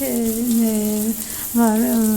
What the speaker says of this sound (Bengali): মাঝারি সাইজের একটা পেঁয়াজ সুন্দর করে বেরেস্তা করে নিব গোল্ডেন ব্রাউন করে ভেজে নিব